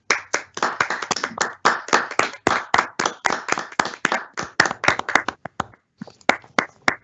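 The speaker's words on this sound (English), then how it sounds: "Please join me in giving a round of applause for our 2021 Excellence in Teaching Award recipients" A small group claps at a college teaching awards ceremony in a fast, uneven patter of distinct hand claps, close and crisp, thinning briefly before picking up again.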